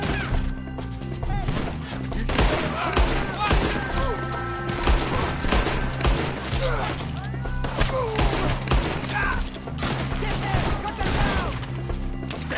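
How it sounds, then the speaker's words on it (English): Rapid bursts of gunfire crackle through a PS4 video game shootout, with shots fired up into the trees amid music and voices, loud and nearly continuous throughout. "Shoot the ones up there first!"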